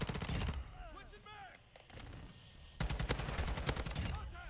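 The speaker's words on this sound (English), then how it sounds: "By the sounds of that sounds like the Icarus LMG." Rapid automatic gunfire from the Icarus LMG in Modern Warfare 2, bursts of crackling shots at the start and again in a dense stretch toward the end, with quieter game sounds between and no clear talking.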